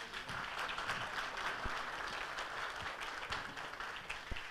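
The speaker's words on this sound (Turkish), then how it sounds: "Çok teşekkür ediyorum alkışlarınız için" Studio audience applause fills a Turkish TV entertainment show hall, a steady, moderately distant wash of clapping with a few sharper individual claps standing out.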